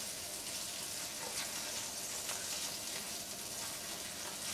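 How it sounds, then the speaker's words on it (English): Garlic sautes in a hot pan with a steady, even sizzle and crackle that holds at moderate volume throughout, with no talking. "It does not take garlic long to saute and fry up,"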